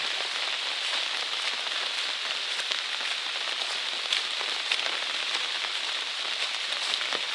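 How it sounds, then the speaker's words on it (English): Steady rain falls on a hiking trail in the wilderness, a dense, even hiss of drops with scattered louder patters, close and continuous with no voices. "And it started raining more, so now I've got mud puddles to walk through."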